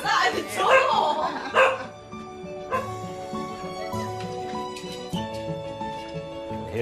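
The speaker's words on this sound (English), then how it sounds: "It's me you're barking at." A dog barks loudly in a short burst of yaps at a front door in a home, then falls quiet as light music plays on underneath.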